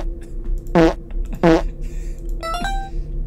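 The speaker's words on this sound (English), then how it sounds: "You can't just give me farting sounds for a password." Two loud, throaty fart sound effects, about a second apart, serve as a password in the video game Patrick's Revenge, followed by a brief rising electronic chime.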